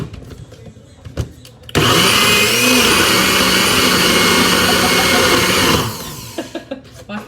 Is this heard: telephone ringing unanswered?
no